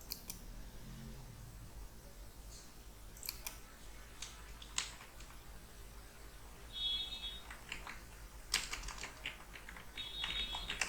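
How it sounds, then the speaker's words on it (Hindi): Fingers type words on a computer keyboard in scattered, faint key clicks and short bursts, set against a steady low hum in a quiet room without speech. "मैं यहाँ पे कुछ भी वर्ड टाइप कर लेता हूँ।"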